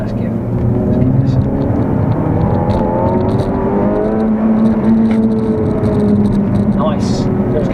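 Interior drone of a Renault Megane RS300 Trophy hot hatch pulling hard, a loud, close engine note climbing in pitch through gears, with someone talking over it.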